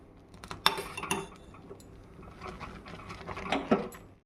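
Spoon stirring mango sago payasam in a pot, giving a series of light metallic clinks and scrapes in irregular bursts, close and fairly quiet with no talking.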